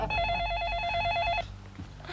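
A telephone rings in a Hindi sitcom scene, with a rapid warbling electronic trill lasting over a second before it cuts off into room noise.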